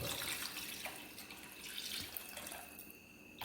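Steady measured water pours continuously into a pot for biryani, a close, splashy stream with faint clinks near the end.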